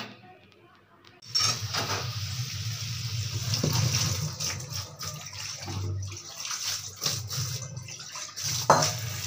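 Water pours steadily from a tap over boiled arum lobe stems in a kitchen, with occasional clinks of a pot or utensils, close and continuous after a quiet start.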